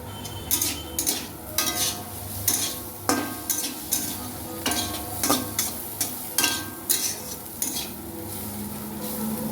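Semolina is stirred with water added little by little in a pan for a pulao, producing a regular series of close scraping and knocking strokes against the metal pan, each stroke about a second apart, over a low frying hiss.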